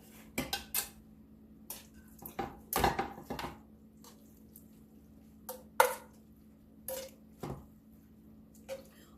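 Clinks and scrapes of food being served into an antique blue willow china dish: pasta with capicola, a sparse series of sharp ceramic knocks and utensil taps close by, with quiet pauses between them.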